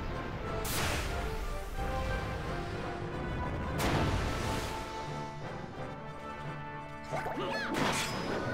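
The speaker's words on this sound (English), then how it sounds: "he punched me right in the glass." Enemy punch striking the player in Final Fantasy XII on PlayStation 2: loud crashing impacts around one and four seconds, with swooshes and musical game sounds running throughout.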